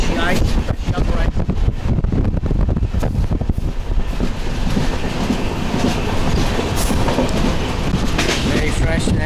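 An Indian passenger train rolls past green rice paddy fields, its carriage rattling and clattering steadily with rushing wind buffeting the microphone, and someone speaking briefly over the noise.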